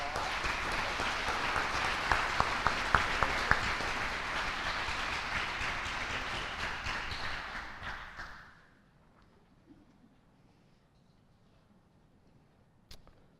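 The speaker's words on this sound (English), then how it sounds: "Let's give them one more big round of applause." Loud, dense applause from an audience honoring students at a school board meeting, a few sharp claps standing out, lasting about eight seconds before dying away to near silence and a faint knock.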